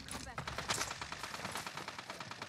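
Rapid bursts of gunfire in a Call of Duty match, a fast rattling fusillade mixed with individual shots, moderately loud and continuous throughout with voices talking over it.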